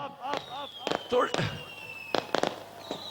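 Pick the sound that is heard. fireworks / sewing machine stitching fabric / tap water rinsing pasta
fireworks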